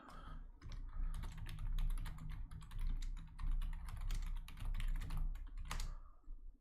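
Rapid, steady typing on a computer keyboard, dense clusters of clicking keystrokes continuing for several seconds with brief pauses, close and fairly quiet, ending in one sharper key tap.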